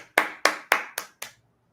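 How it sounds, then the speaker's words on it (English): Five distinct hand claps in an even, moderately quick rhythm, close and clear, then silence. "let's give that a proper clap"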